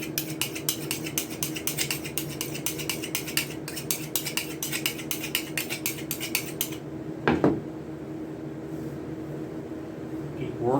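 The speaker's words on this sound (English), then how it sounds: "touch the knife up just a minute." A skinning knife's edge being touched up during beaver skinning: quick, evenly spaced scraping strokes run for several seconds, then one louder, longer scrape follows before things go quiet.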